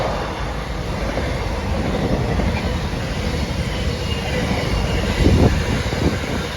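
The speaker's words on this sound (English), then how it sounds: "That freight train's running from Laura Street to Felixstowe" A freight train rumbles past at close range, a steady broadband roar of rolling wagons with a louder surge near the end and no speech.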